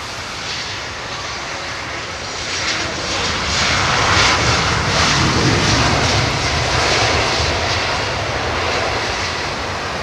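Airliner engines at idle thrust during a wet landing at London Heathrow, a steady broadband roar that swells slightly midway and holds loud throughout, with no talk.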